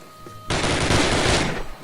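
Full-auto gunfire in Call of Duty erupts after a quiet half second as one loud, dense sustained burst lasting about a second, then cuts off into faint background.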